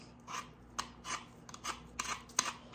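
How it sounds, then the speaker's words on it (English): A Temu kitchen gadget peels a potato with a series of short, scraping rasps repeating at an uneven rhythm, close up and fairly quiet, with no talking. "So let's see if it'll peel potato"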